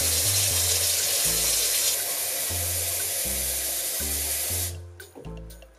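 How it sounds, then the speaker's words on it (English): Water runs hard from a tap into a wine fermenter, a loud steady hissing rush that cuts off near the end, followed by a few drips and clunks. "And fill it up with water."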